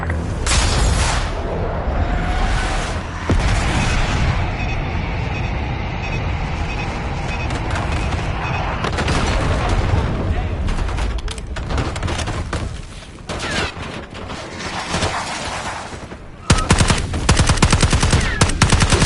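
Aircraft bombs dropping in Call of Duty Black Ops 6, with loud, sustained explosions and heavy rumbling gunfire rolling on continuously; a sharp fresh blast hits near the end.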